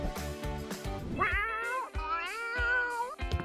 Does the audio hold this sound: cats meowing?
yes